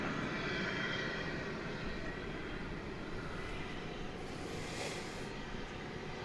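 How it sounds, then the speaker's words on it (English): An American Airlines Boeing 737-800, flight 1931 from Phoenix, arrives at DFW Airport at night, a steady broadband jet roar held close and loud for the whole stretch, swelling slightly near the end. "This American Airlines coming in from Phoenix."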